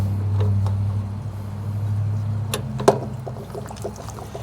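Water draining out of an RV camper's water heater onto gravel outdoors, a steady low rushing flow with a couple of brief splashy bursts, fairly close and unbroken by talk.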